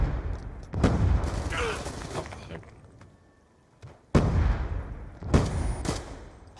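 Scorpion gun fire in Call of Duty Black Ops 2 comes as several booming bursts spread through the clip, loud and close, with gaps of quieter game noise between them.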